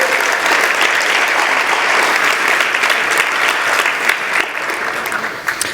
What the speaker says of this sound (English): So can everybody give them a round of applause to start with?